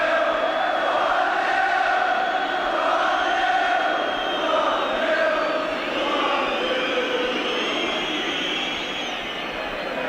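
Large football crowd at Wembley Stadium during a 1981 England v Hungary World Cup qualifier, a steady, loud roar of massed voices with rising and falling swells of cheering and chanting, continuous throughout.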